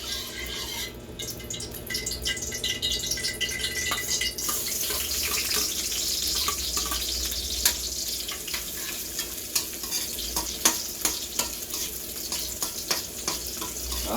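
Garlic frying steadily in a hot pan for shrimp, a continuous close crackling sizzle with scattered sharp pops and stirring clicks, no voices.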